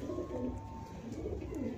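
A colorful pigeon gives a brief low cooing phrase up close, soft and rolling, alone without voices.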